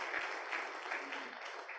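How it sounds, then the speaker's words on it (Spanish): Applause for the national leader of war bands at an international sports congress, a moderately quiet, steady patter of many hands lasting a couple of seconds with no talk over it. "Vamos a darle un aplauso porque es el dirigente nacional"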